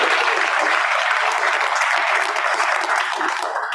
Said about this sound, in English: So let's give Clay a round of applause for this.